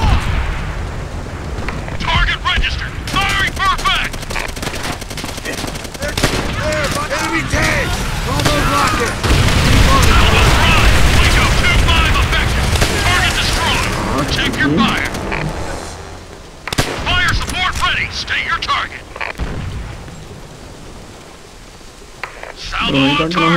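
Heavy booms and rumbling gunfire from the World War II shooter game Call of Duty: World at War roar loudly and continuously, with shouted voices mixed in over the battle din.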